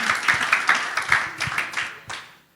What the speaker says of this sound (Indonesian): Ayo tepuk tangan dulu bagi Tuhan Yesus,